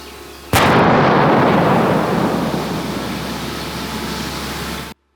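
A single loud blast from a controlled detonation of explosive ordnance by deminers in Hrabivka village, Ukraine, erupts suddenly, followed by a long rumbling roar that slowly fades over several seconds with no voices.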